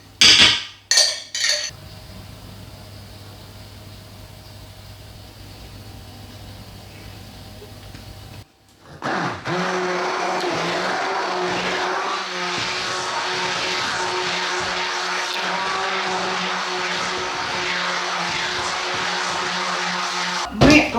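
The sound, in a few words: blender whipping zucchini ketchup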